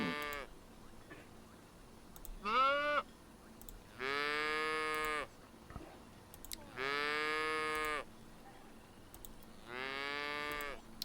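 Cows in the video game Albion Online moo clearly several times, each long, drawn-out call separated by pauses of about a second, alone over a quiet background.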